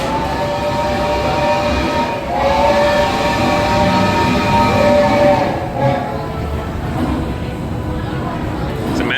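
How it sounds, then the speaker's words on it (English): A driverless theme park ride train at Universal Studios Florida rumbles steadily with a sustained whistle-like tone rising over it, while voices chatter nearby throughout. "It's a magical train. Nobody's driving it."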